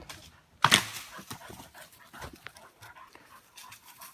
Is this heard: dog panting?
yes